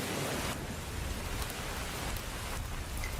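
Steady rain falls as a cartoon sound effect, a dense, even hiss of drops on surfaces with no voices heard.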